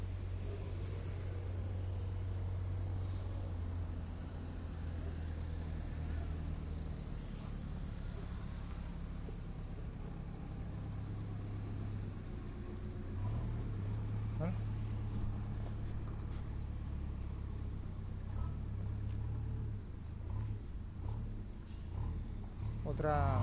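Traffic on a busy street in Murcia: a continuous low rumble of passing cars with engine drone rising and falling, fairly distant and steady, with occasional brighter swells as vehicles pass near.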